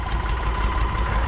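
A New Holland 3630 tractor engine runs steadily while working a rotavator, a loud, continuous close-up diesel drone with low rumble and vibration and no talking.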